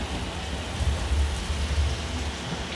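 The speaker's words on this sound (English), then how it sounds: "it looks like we're going to get some rain right about now" Simulated rain from overhead sprinklers on the Universal Studios tour, a steady close hiss of falling water with soft low rumbles beneath.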